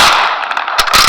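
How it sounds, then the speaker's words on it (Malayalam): Gunfire from a realistic guns mod in the Minecraft video game: a dense, loud burst of shots, then a short gap and a few more sharp cracks near the end, with no talking. "എന്താ വെടി"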